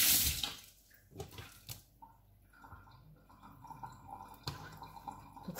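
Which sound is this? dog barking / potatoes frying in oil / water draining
water draining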